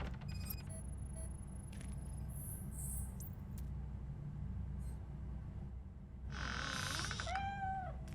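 A cat meowing in the video game Robocop: Rogue City, faint high cries over a steady low background hum, with a rising, wavering meow near the end.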